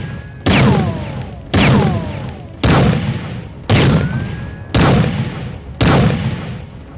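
Gunfire in Garry's Mod, six loud, sharp shots spaced about a second apart, each with a booming body and a ringing decay, close and dominant with no speech over them.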